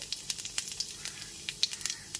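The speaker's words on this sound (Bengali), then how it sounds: "তেলটা এখানে খুব ভালো মতো গরম হয়ে গেলে পরে এতে দিয়ে দিচ্ছি 1 টিস্পুন গোটা জিরে" A teaspoon of whole cumin seeds sizzling in hot oil, with sharp crackling pops scattered over a soft steady hiss, close and fairly quiet.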